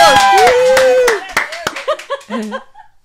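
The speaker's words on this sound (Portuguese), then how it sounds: "Aplausos!" Applause on a podcast for Pastor Eduardo: a few sharp, close hand claps mixed with laughter and voices, quickly tapering off into scattered claps and chatter.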